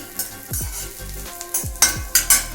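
Groundnuts and dried chillies sautéing in a pan for chutney, with a steady sizzle broken by several sharp stirring scrapes and clinks of a spoon against the pan, close and moderately loud.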